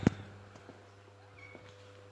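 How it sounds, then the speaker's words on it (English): A cat in a vehicle workshop gives one short, sharp meow at the very start, then the room stays quiet apart from a steady low electrical hum and a few faint clicks. "Crazy workshop cat."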